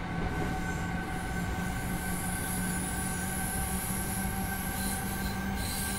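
A German BR423 electric commuter train running on the Munich–Augsburg line in Train Simulator 2015, with steady loud rail rumble, squealing wheels and faint clickety-clack throughout, no voices.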